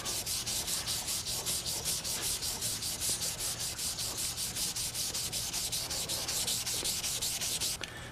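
Rapid back-and-forth sanding strokes rasp across an old rusty hatchet head, a steady rhythmic scrub of abrasive on steel, close and alone.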